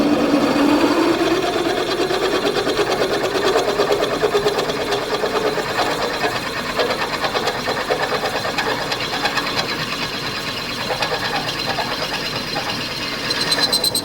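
A drill bores through a steel spacer plate into a cast iron block during a Perkins 4.270 engine conversion of a 1944 Standard Fordson tractor, whining and chattering steadily up close, its pitch shifting partway through.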